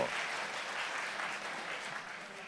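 A small audience at an Islamic quiz claps steadily for a correct answer, a fairly quiet, even patter of many hands lasting a couple of seconds without speech.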